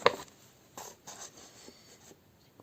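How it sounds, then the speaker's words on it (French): Material for a diamond painting being cut, with a sharp initial snip followed by several soft scratchy cuts and rustles, quiet and close, with no talking. "Hop, je vais découper ça pour l'avoir."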